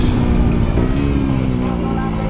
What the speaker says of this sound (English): So right now I'm in 5th gear. I'm gonna do multiple rev matching.